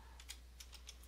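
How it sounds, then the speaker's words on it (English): Soft, quick keystrokes tap on a computer keyboard, about half a dozen light clicks in an uneven rhythm, over a low electrical hum. "I can hit the Windows key, I can start typing in what I'm looking for"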